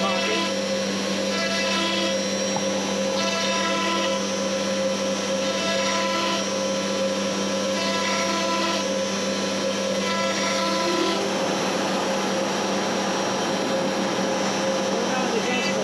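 A CNC router cuts a pocket into a ceiling tile for a suspended ceiling, giving a steady, loud whirring spindle whine with a constant hum that runs the whole time at close range.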